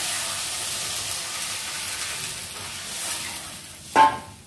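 Water being poured into a pan of sizzling curry: a steady close hiss of frying and steam throughout, with a brief louder burst near the end, and no talking.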